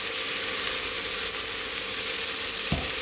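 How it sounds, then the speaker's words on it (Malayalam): Thinly sliced salted onions sautéing in a pan for mutton mandi, a dense, even sizzle held close and loud throughout, with one dull knock near the end and no voices. "സവാള നന്നായിട്ട് വഴറ്റി കൊടുക്കുക"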